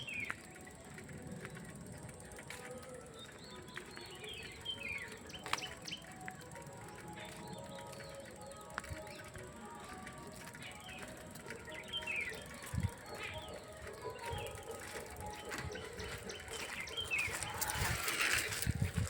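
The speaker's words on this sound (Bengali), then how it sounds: "শুনতে পাচ্ছেন পাখির আওয়াজ" Scattered bird chirps and calls at a distance over a low outdoor rumble, growing a bit busier toward the end.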